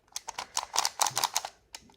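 Clicking from a Skewb puzzle cube being turned, a quick run of sharp, close plastic clicks in uneven bursts, with a short pause before a final few clicks.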